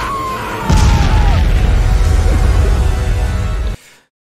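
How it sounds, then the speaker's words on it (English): A loud explosion from the movie Mega Piranha bursts in with a deep boom and sustained rumbling roar for about three seconds, then cuts off abruptly into silence. "that explosion should took about half of them"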